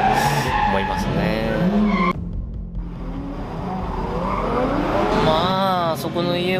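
Nissan 180SX drifting with its tires skidding and squealing loudly over a revving engine, with a brief dip in the noise partway through before the squeal returns.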